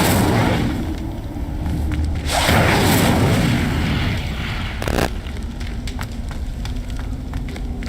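The Incendio fire spell cast in Hogwarts Legacy bursts out as a loud whooshing flare over a steady roaring, rumbling game soundscape, with a second sharp burst shortly after.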